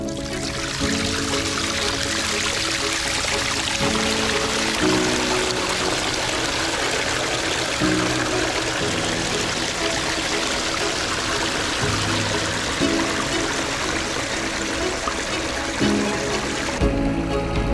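Water pours steadily over a newly rebuilt natural-looking backyard waterfall, a loud, continuous close rushing splash with gurgling underneath, unbroken throughout with no voices.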